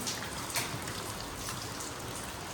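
Steady rain falls during a stormy day outdoors, a constant wash of patter with a few louder drops near the start and no talking.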